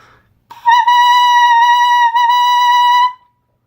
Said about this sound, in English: if you make this sound with just your mouthpiece, you should be able to make the proper saxophone sound.